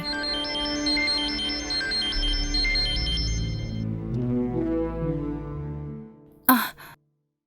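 A phone rings with a repeating electronic melody for several seconds, then cuts off, followed by a short sharp sound and silence.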